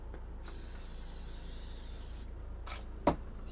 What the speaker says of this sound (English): Spray that,